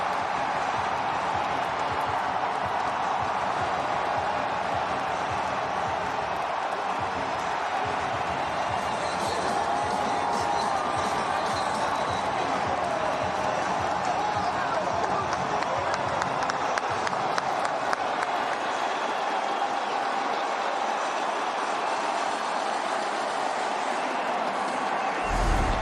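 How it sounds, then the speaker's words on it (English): A packed baseball stadium crowd roars after a game-tying double between the Dodgers and Padres, a sustained, loud wash of cheering and clapping that swells and holds for the whole stretch. "Crowd is going crazy."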